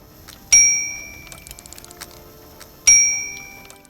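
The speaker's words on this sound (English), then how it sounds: "this hotel reception bell, which only works after being wound up" A wound-up hotel reception bell automaton from the adventure game Syberia rings twice, about two seconds apart. Each ring is a bright metallic ding with a long fading tail, over faint mechanical ticking and no speech.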